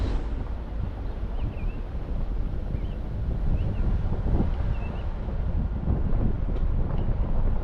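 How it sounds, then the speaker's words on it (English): Steady wind rumbling against the microphone on a red dirt backroad in Logan county after heavy rain, a loud continuous low roar with faint chirps above it and no talking. "The wind."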